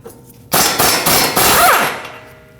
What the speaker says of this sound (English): Use a hammer, tap the knuckle right here, that'll free up the tie rod stud from the knuckle.